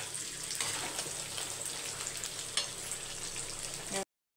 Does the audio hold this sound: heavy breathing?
no